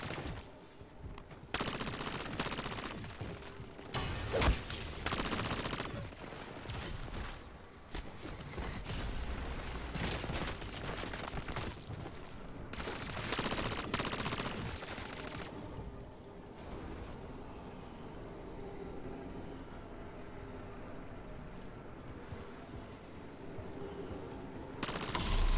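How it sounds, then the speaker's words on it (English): SMG gunfire in a zombies video game, sustained rapid bursts repeating over a long stretch with short gaps, loud and close against a constant background rumble. "You see this gun I got in my hand? It's SMG."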